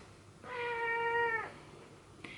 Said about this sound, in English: My cat keeps meowing at me.